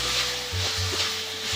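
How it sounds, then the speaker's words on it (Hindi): Eggplant pieces frying with potatoes in a pan for a mixed vegetable dish, giving a steady close sizzle with light stirring scrapes. "बैंगन डाल दूंगी, इसे मैं 2 से 3 मिनट तक पकाऊंगी ताकि ये सॉफ्ट हो जाए।"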